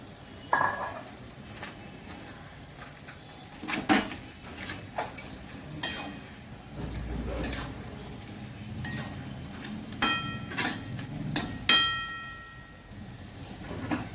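Fish heads go into a pan for a cabbage curry with a series of sharp metallic clangs and clinks of utensils against the pan, scattered over about fourteen seconds, with a low sizzling frying hiss underneath.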